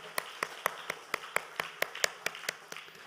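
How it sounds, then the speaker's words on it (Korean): Steady, evenly spaced claps come from a church congregation applauding its cell group leaders, sounding rhythmic, crisp and fairly faint, roughly four a second. "우리 수고하신 우리 순장님들을 위해서 박수 한번 하겠습니다."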